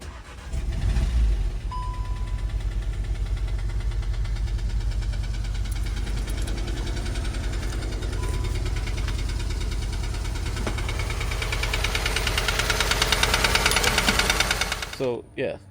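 A VW Golf R MK7 with a spun bearing starts and runs with a steady rapid metallic knocking beneath the engine note, close and continuous, before cutting off abruptly near the end.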